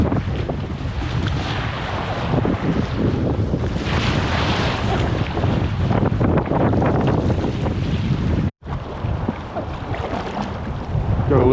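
Strong wind roars through an open valley on an overnight packrafting trip in rain, a loud, continuous buffeting rush with heavy gusts striking the microphone, broken by one brief dropout.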